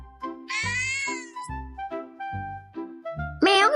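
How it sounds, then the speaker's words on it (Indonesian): A cat meows several times in a row, each call drawn out and wavering, with a higher, strained yowl at the end; close and loud. "Meong panjang menunjukkan bahwa kucingmu sangat senang melihatmu."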